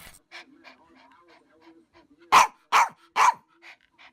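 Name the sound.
dog barking and panting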